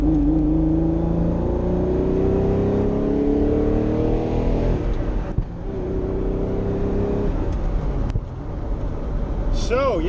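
Ferrari Testarossa with Motec EFI revved up in short blips, its engine note rising and falling loudly beneath steady talking nearby.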